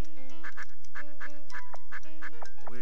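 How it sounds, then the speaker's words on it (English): Odd synthesized duck-like quacks from the video game Cubivore, a run of short nasal honks in a steady, slightly irregular rhythm over a low droning game tone, ending in a quick rising warble. "Weird duck sounds."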